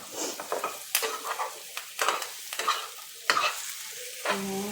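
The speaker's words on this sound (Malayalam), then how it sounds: "ഇളക്കി കൂട്ടാം. ചിക്കന് മലക്കിയ സോസൊക്കെ നല്ലോണം അങ്ങോട്ട് പിടിക്കട്ടെ." A spoon stirs chicken through sauce in a pan with repeated scraping strokes and a soft sizzle underneath, close and fairly quiet, with no talking.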